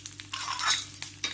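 Cumin seeds and curry leaves sizzle and crackle in hot oil in a pan, a brief close frying hiss with small spattering bursts and no talking.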